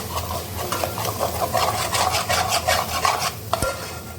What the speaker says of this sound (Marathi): आता आपलं वाटलेलं वाटण पण टाकून जाऊया व्यवस्थित